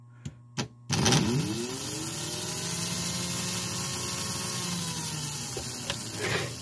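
A small model Alco diesel locomotive's electric motor runs off the track, a steady whirring hum that starts after a couple of clicks and holds evenly, fairly close, with a faint click near the end.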